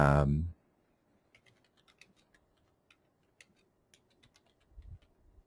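Typing on a computer keyboard, a quiet close series of irregular key clicks and taps that follows a short burst of speech at the start, with a faint low thump near the end.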